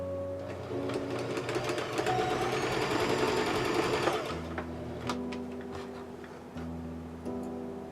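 Sewing machine stitching the side seam and elastic casing of a ballet tutu skirt, a fast whirring run of needle strokes for about four seconds, then slow, separate ticking stitches and pauses, close up, no talking.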